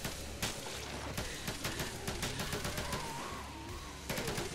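A firearm fires on full auto in rapid, dense bursts of sharp cracks, loud and close, running almost without pause across the whole span.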